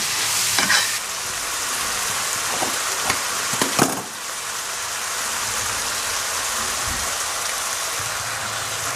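Fine beef mince for bolognese sauce sizzles steadily and loudly in a hot pan, with a few clattering stirs and scrapes early on, then continuous even frying with no voices.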